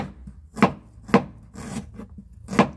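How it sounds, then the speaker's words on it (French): A knife chops through a piece of ginger on a cutting board, four sharp, close thuds at uneven intervals over faint background noise, with no one talking. "j'ai coupé un morceau de gingembre"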